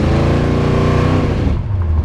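A cold, brand-new 412ci stroker V8 in a 1971 Mach 1 with automatic transmission rumbles loudly and steadily up close, held at a gentle rev before easing back toward a lower idle near the end.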